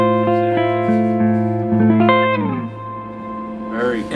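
Electric guitar played through a Rivera Knucklehead Reverb combo amp, loud sustained chords and notes ringing out with a long, washy reverb tail that lingers after the playing stops, alone without talk.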